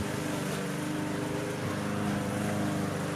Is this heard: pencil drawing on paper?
no